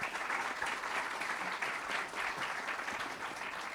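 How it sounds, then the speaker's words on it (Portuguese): An audience at a business school event gives a round of applause, steady dense clapping at moderate volume throughout. "uma salva de palmas"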